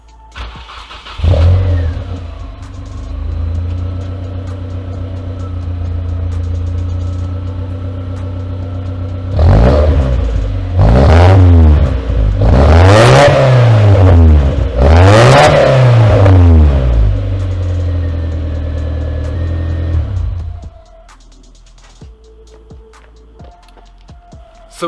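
Honda Civic EK with a custom exhaust starts up and idles at a steady, moderate volume, with a few sharp revs blipping up midway before settling back and cutting off near the end.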